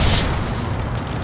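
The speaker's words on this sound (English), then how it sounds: "a violent explosion occurs known as backdraft." Backdraft explosion in the firefighting game FireCaptain: a loud, sudden boom that swells into a sustained roaring rumble and slowly fades.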